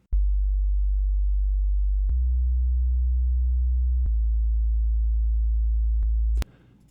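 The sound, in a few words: simple sine wave bass, soloed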